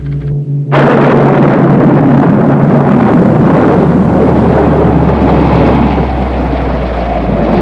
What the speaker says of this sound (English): I think we are in for a storm.